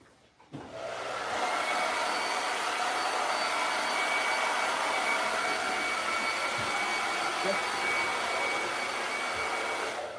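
Hair dryer drying chalk paste on a board, switched on after a brief click and then blowing as a loud steady whoosh that holds without a break to the end.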